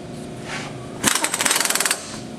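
An impact wrench fitted with a 120-pound torque stick hammers an axle nut tight on a Dakota, a short loud burst of rapid rattling blows lasting about a second after a brief lead-in.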